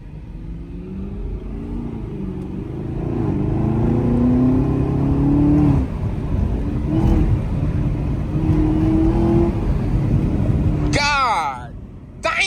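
Chevrolet Camaro ZL1 1LE fitted with a suppressor, its engine rumbling and revving in a low, steady drone that rises and falls, close and loud, while people talk over it.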